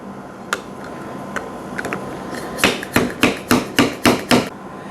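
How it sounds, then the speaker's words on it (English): Sharp metallic slide-hammer blows drive a Kawasaki motorcycle fork seal into place, a few scattered taps giving way to a steady run of about seven loud, evenly spaced strikes, close up with no talking. "you can use one of these like a slide hammer on your seal"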